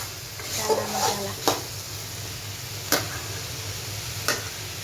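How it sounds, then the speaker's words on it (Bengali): Chana masala being stirred and fried in a pan, a soft continuous sizzle with a few sharp scraping taps of the spoon against the pan at irregular intervals, with faint voices at times. "মা এখনো কষাচ্ছে চানা মশলা"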